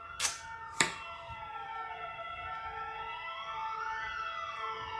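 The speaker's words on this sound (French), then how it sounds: "Désolée pour les sirènes." Several emergency vehicle sirens wail outside at once, their overlapping tones sweeping slowly up and down, steady and fairly loud after two sharp clicks near the start.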